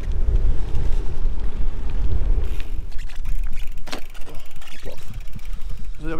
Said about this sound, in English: Oh, that wind's getting bloody strong.